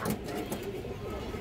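Pigeons at a breeder's loft, among them khaki high-flyer racing birds of an old bloodline, coo softly and continuously at close range under a low, steady background murmur.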